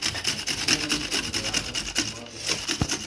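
A knife works through onions on a wooden board in quick, steady strokes, with a rasping scrape on each pass. The cutting is close, busy and continuous, and no one speaks.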